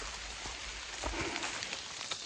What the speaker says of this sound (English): I kept hoping it would just quit raining